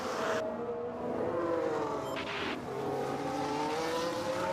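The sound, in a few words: F1 race cars on track in F1 Manager 2022 video game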